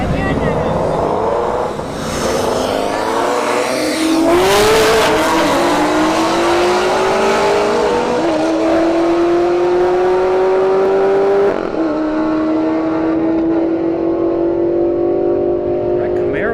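Camaro SS and Shelby GT350 drag racing at a motorsports park, loud engines roaring with rising gear-by-gear pitch sweeps and shifts over about sixteen seconds, with an announcer talking throughout.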